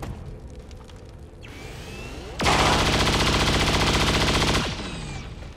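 In XCOM 2: War of the Chosen, a soldier empties a weapon at the Purifier: a loud, continuous burst of automatic gunfire lasting about two seconds, rising out of quieter mechanical game ambience and then fading back.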